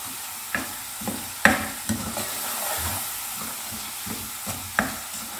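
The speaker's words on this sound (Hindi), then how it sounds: "मसाला भी भुन रहा है" Masala fries in a pan for Punjabi rajma with a steady close sizzle, punctuated by repeated scraping knocks of a spoon stirring it.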